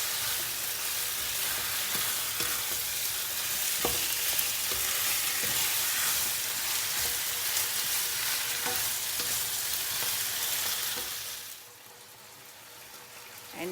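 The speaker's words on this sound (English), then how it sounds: "I'm going to fry until the beef well cooked, and make sure during cooking flip over" Beef for black pepper beef stir fry sizzles steadily in a pan, with occasional soft clinks and scrapes as the pieces are flipped, and the frying hiss drops off near the end.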